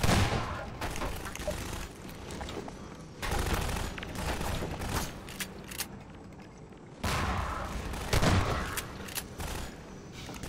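Shotgun fire in the video game Half-Life 2, several loud booming blasts with dense, chaotic combat noise between them, continuous and close, no voices.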